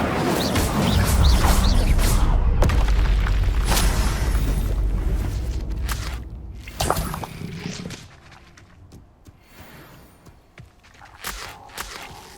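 Incendio fire spell cast in the Hogwarts Legacy video game: a loud, rumbling whoosh of flame with a deep low roar lasting several seconds, then fading into smaller crackles and scattered impacts.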